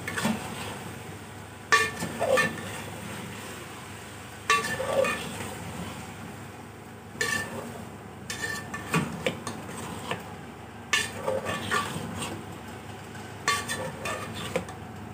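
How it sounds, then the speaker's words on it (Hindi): Cauliflower frying in a spiced masala in a pan, with repeated scraping and clinking of a utensil against the pan over a steady low sizzle, the stirring coming in short bursts. "मसाला भुन गया है, बस इसको 1 से 2 मिनट भूनना है।"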